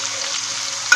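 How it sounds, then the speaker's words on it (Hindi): Spices for degi chana pulao roast in a pan with a brief, bright sizzle that ends in a sharp clink. "इसे थोड़ा सा भून लेंगे।"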